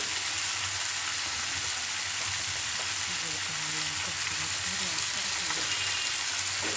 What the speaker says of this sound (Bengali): গুঁড়ো লঙ্কাও দিলাম ভালো করে আমার সাথে কষে নেব